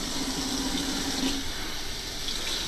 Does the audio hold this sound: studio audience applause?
no